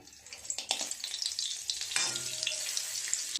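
White oil and butter heating in a pan just after frying paneer, a soft close sizzle with a few clinks and scrapes of a utensil, no talking.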